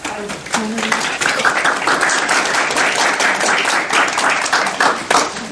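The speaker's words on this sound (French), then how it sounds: "Vous pouvez les applaudir pour les encourager." A crowd claps continuously, a dense wash of applause at close range, with a brief voice at the start.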